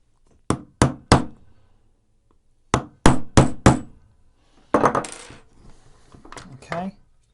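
A hammer taps a Mazda flip key held in a vise, three sharp metallic strikes, then a pause and four more, followed by a rougher scraping clatter and a final knock.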